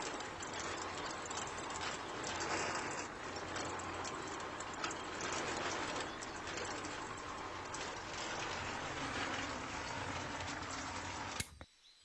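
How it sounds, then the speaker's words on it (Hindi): A mini cement mixer turns and mixes cement for a small model brick house, giving a steady mechanical rattle with ratchet-like ticking that runs continuously at moderate level before cutting off near the end. "अब मशीन घूम रही है, इसके अंदर सिरमट अच्छी तरह मिक्स हो रहा है।"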